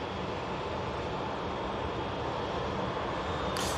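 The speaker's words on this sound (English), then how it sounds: "EasyJet arriving in from Paris" An EasyJet passenger jet arriving from Paris at Manchester Airport gives a steady, broad roar of engines that stays loud and unbroken throughout, heard from a runway-side viewing area.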